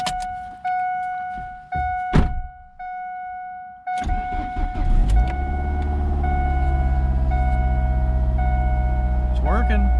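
An old car bought for $150 is started: a few thunks and dash chimes, a starter cranking, then the engine catches and settles into a steady, close idle rumble, with voices talking over it.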